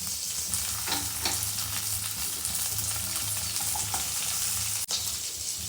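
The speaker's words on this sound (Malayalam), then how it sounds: "ഇതെല്ലാം കൂടെ നല്ല രീതിയിൽ മൂപ്പിക്കണം." Garlic and small onions fry in a pan for chutney, a steady dense sizzle with occasional stirring scrapes and one sharp click near the end, no voices.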